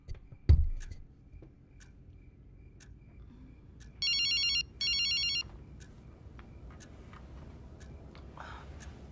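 A telephone rings in a quiet room, two short electronic ring bursts close together, loud and clear, after a thump and soft background shuffling with no talk.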